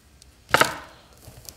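A fork presses down on a baked peanut butter cookie dough ball in a single short, close crunching squash, with faint quiet around it; no voices.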